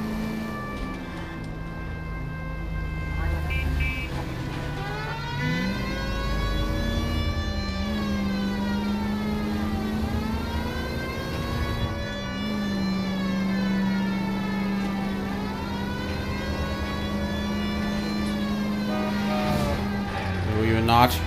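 Police siren from the video game LA Noire, a loud, continuous wail that sweeps up and down in repeated long cycles over a steady engine-like drone, running through the whole stretch.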